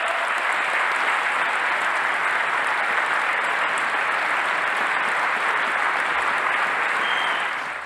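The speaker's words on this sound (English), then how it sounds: "they get up to applaud, and rather hesitantly" A concert-hall audience applauds steadily and densely for about eight seconds, a continuous wash of clapping hands that fades slightly at the very end, with no talk over it.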